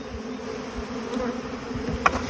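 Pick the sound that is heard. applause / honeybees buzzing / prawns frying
honeybees buzzing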